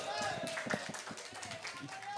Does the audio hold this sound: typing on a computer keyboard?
no